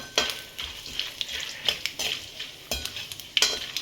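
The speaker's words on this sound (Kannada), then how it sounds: "ಓಕೆ, ಕಡಲೆಬೇಳೆ ಈಗ ಮುಕ್ಕಾಲು ರೋಸ್ಟ್ ಆಗಿದೆ, ಗ್ರೌಂಡ್ ನಟ್ಟು" Chana dal and peanuts roast in a pan and are stirred repeatedly with a spoon, giving rhythmic scraping clinks over a soft dry sizzle, close and clear, with no talking.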